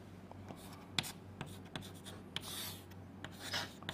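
Pen or marker writing out a truth table for a flip-flop, with scratchy strokes, taps and longer rubbing passes coming in close, quiet bursts and no talking.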